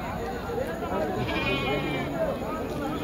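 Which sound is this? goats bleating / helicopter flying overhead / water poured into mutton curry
goats bleating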